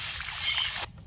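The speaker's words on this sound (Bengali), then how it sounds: "পানি দিলাম কড়াই" Water poured into a wok of frying semolina gives a steady hissing, bubbling rush for most of a second, then cuts off sharply to quiet.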